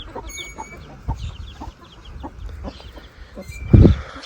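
Mixed desi and aseel chickens cluck in short, scattered bursts nearby, with a louder squawk near the end.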